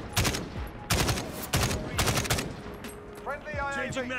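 AK-47 firing in the video game Modern Warfare: several loud, sharp bursts of rapid automatic fire in quick succession, then a brief voice toward the end.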